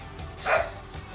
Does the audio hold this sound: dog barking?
yes